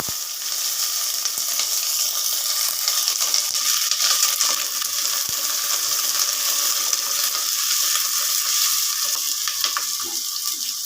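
Small and large onions fry in hot oil in a pan. A dense, steady hiss and sizzle carries on without a break, with faint crackles scattered through it.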